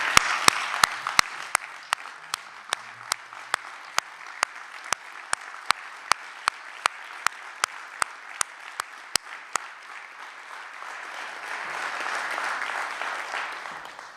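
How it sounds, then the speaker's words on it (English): Applause from an audience at a city address, sustained crowd clapping that swells toward the end, with sharp regular clicks sounding through most of it. "So if you could give him a round of applause as he retires in 6 months."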